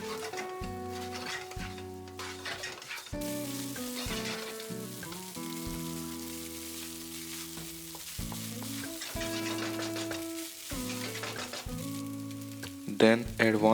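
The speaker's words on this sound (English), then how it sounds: "Then add 1 large bowl of cooked rice and fry this for about 4 to 5 minutes" Cooked rice stir-frying in garlic butter gives a steady soft sizzle with occasional stirring scrapes, sitting beneath louder background music throughout.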